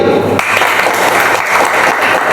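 A crowd claps steadily at a talk about exam results, dense and close, running through the moment after a faint start under a murmur.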